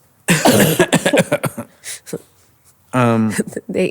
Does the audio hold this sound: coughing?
yes